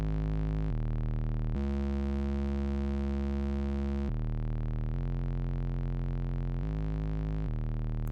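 A synth patch built in Serum plays with compression applied. It holds steady, buzzy sustained notes that shift pitch several times, loud and alone with no voices.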